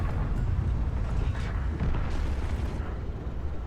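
A heavy booming tank cannon blast in a video game rumbles loudly, followed by sustained low roaring and rumbling amid battle noise.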